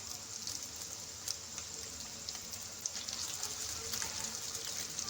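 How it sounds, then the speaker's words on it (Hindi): Shami kebabs of shredded beef frying in a pan, a steady hissing sizzle with faint crackles and occasional soft pops, no talking. "तो हम अंडे को फ्राई करेंगे और इसका कलर लाइट ब्राउन करेंगे"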